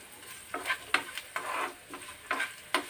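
Onions sizzle in hot oil for a dal tempering, a soft steady fry with about seven spatula stirring scrapes in an uneven rhythm, close and fairly quiet, with no voices.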